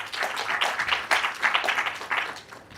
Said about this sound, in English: let's applaud for all the startups for receiving this award from BFI